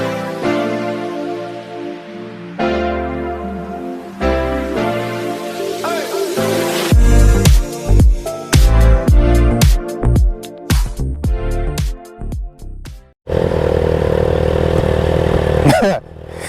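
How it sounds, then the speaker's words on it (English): A 2024 Suzuki Hayabusa Special Edition motorcycle engine starting and idling, then a rapid series of sharp throttle blips and revs, dropping out briefly before a steady loud rumble resumes. "Let's go ride the 2024 Hayabusa"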